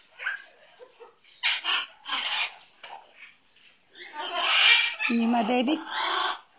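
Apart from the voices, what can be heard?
pet bird vocalizing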